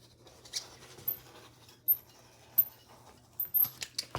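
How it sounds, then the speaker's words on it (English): A rotary cutter rolls along a ruler, slicing a strip of vinyl for a wristlet key fob lanyard. It makes faint, quiet scratchy scraping passes and small intermittent clicks, with no talking. "now I am going to cut it with my rotary cutter"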